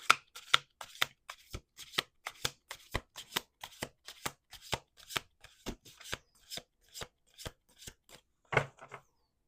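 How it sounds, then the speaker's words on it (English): Tarot cards are shuffled by hand in a steady series of quick, close riffling flicks, about two to three a second, with no talk. "Last shuffle."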